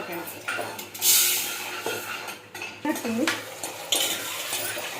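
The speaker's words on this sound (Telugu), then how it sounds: "కడిగేసి నేను బియ్యం కడుగుతా." Rice being washed in a metal pot in a home kitchen while cooking pulagam, with clattering pot and utensil knocks and swishing over steady background noise, no talking.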